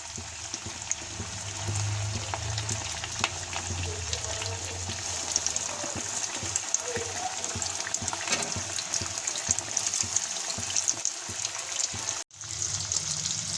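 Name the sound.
flour-coated fish frying in hot oil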